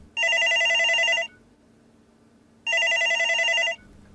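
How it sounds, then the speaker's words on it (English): A telephone rings in two loud, clear bursts about a second long, separated by a pause of silence, with no one talking. "Rav was interrupted when the phone rang"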